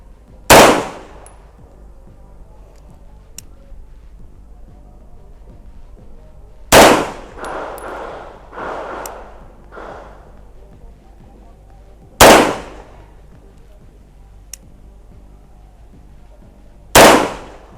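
Four loud, sharp pistol shots from a Taurus PT99, spaced several seconds apart at a shooting range, with faint handling noises and soft background sounds between them.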